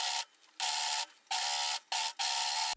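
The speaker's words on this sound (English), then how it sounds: "I'm going to finish the edges with my overlocker" Overlocker serger sewing machine finishing the raw fabric edges of a blouse seam, running in four loud bursts of steady mechanical whirring separated by short pauses.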